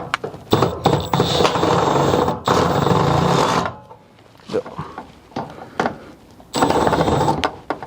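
A cordless power tool whirs in loud bursts, driving bolts during a fender installation on a 2014 Mitsubishi Lancer, with several starts and stops separated by quieter pauses and brief clicks.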